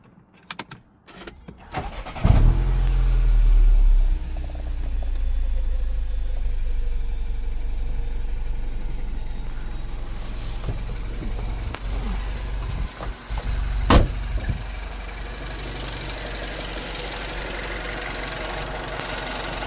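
A Mini Cooper R56 engine starts with a loud rumble after a VANOS solenoid replacement, then settles into a steady, even idle that runs throughout, close by and with no voices.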